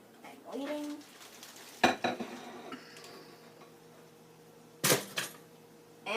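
A Toastmaster two-slice toaster pops up with a sharp, close mechanical snap, followed by a couple of lighter clatters and a second distinct click later; quiet room tone between.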